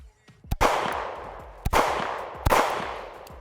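Three sharp, loud pistol shots from an OA Defense 2311 Compact Pro, spaced about a second apart, each ringing out with a lingering echo on the range.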